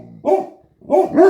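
Pregnant dog Cashmere gives three sharp, nearby barks: a single bark, a short pause, then two quick barks in succession.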